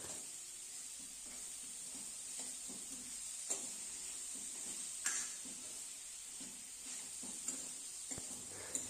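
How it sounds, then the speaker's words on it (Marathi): Carrots cook gently in a pan over low heat for a carrot soup, a soft steady sizzle with occasional scraping stirs and light clinks, quiet and close, no voices. "दोन 3 मिनिटे कमी गॅसवर थांबून हलवत गाजर सॉफ्ट करून घ्यायचे आहे।"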